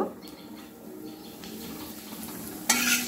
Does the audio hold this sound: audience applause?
no